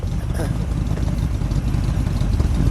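A 1970 AMC Javelin SST V8 fitted with custom mufflers rumbles loudly up close, with a steady, throaty burble and small throttle swells, while people talk over it.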